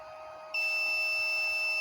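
An inverter's short-circuit alarm sounds as a steady high-pitched electronic tone that switches on abruptly and holds continuously, loud and close, over a faint background hum.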